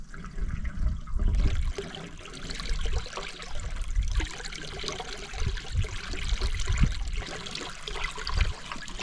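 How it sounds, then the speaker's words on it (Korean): Water gushes from a hose fed by a submersible pump drawing stream water at a weekend farm, a steady rushing, splashing flow with bursts and gurgles, close and continuous. "호스에서 공기가 빠지는 소리가 들리면서 물이 올라오는 모습을 확인했습니다"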